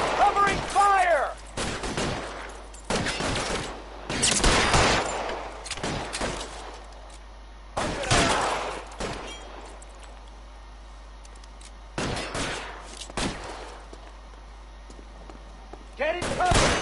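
Covering gunfire in a video game, repeated loud bursts of automatic shots in clusters across the span, with voices shouting between volleys.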